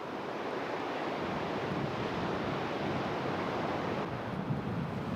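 Ocean waves break steadily on a beach where swimmers caught in a rip current are carried back to shore, a continuous loud wash of surf with wind noise and no voices.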